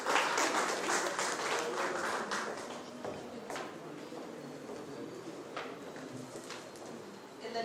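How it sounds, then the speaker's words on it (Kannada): An audience at a Human Rights Day event on a stage claps steadily, loudest at the start and thinning slightly, with a few sharper individual claps standing out. "ನಿಮ್ಮೆಲ್ಲರ ಚಪ್ಪಾಳೆ ಬರಲಿ"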